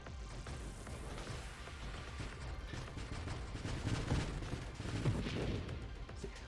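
Waves of high-explosive artillery fire in the space shooter game Nova Drift, a dense, continuous barrage of overlapping blasts and rumbling impacts that swells slightly toward the end.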